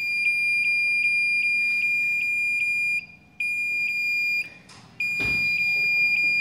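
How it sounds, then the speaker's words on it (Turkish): A radar test unit sounds its alarm, a steady train of loud, high, evenly spaced electronic beeps. A sustained tone runs beneath them and cuts out briefly twice. A short clatter is heard near the end. "Bütün değerleri hafızaya aldıktan sonra bu alarm sesi susar."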